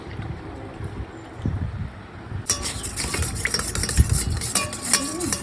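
Curd is whisked with water: after a quiet start, a rapid, scraping stir with clinks of utensil against the bowl keeps going close by.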